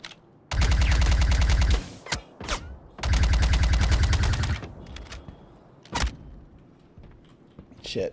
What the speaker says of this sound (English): Shit, he's shooting me.